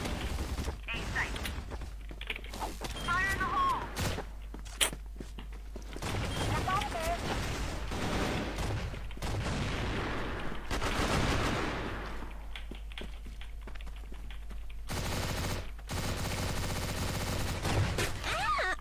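Video game gunfire and grenade explosions: bursts of rapid shots and loud blasts recur throughout, with players talking over the action.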